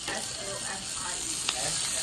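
Food sizzles steadily on a very hot outdoor grill at a Fourth of July cookout, a continuous close frying hiss with faint background voices.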